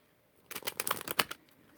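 Cards shuffled for a reading, a quick run of crisp riffling flutters lasting about a second, close and fairly quiet, with no talk.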